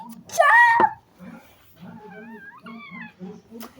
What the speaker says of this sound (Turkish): Kedi arkadaşlar.